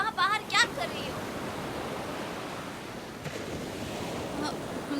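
Water waves wash and splash steadily at a bathing spot among rocks on a hot day, a continuous broadband surf hiss throughout, with a brief voice heard near the start.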